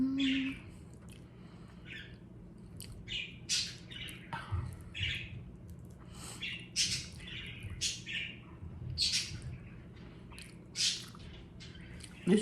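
Small pet birds kept indoors for the winter give repeated chirps and short squawks scattered across the stretch, moderately close, over a low steady room hum.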